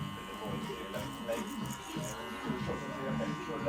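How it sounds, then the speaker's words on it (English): Electric hair clippers cutting hair clipper-over-comb during a combed-back haircut with a middle part, a steady close buzz with small shifts as the blade moves through the hair. "we're just going to work out a little bit of this bulk with clipper over comb"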